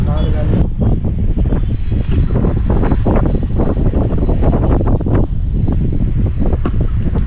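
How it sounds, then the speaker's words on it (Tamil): Strong, steady wind roars across the microphone on a rain-slick rocky hill trek at Yanaimalai near Madurai, a constant loud buffeting that stays unbroken throughout while a person talks over it. "இப்போ பயங்கரமாக காற்று வேறு அடிச்சுக்கிட்டு இருக்கு"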